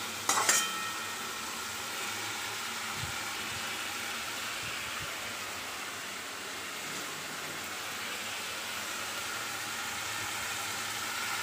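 Tomatoes sizzle steadily in hot oil in a pan for a spicy fish curry, a continuous, fairly faint frying hiss with a brief louder stir at the start and occasional soft knocks.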